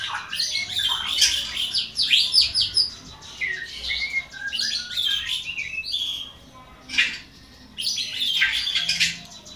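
A caged orange-headed thrush chirps and trills in bright, rapid bursts separated by short pauses, close and clear over a quiet background.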